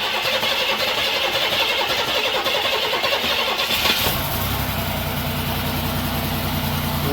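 A 1989 Buick Century estate wagon with a 3.3 L engine cranks loudly for several seconds, then catches and settles into a steady, close mid-pitched idle, with no talking.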